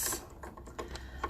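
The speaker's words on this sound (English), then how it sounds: "So put it there, back in, put in my bobbin case." A bobbin case is clicked back into a sewing machine, giving a short series of small, close metallic clicks and taps with no talking.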